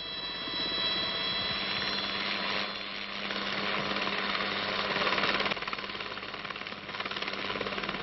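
A steady, loud mechanical roar with a rapid chopping pulse from a helicopter running nearby at an avalanche site in the mountains, continuous throughout with slight swells in intensity.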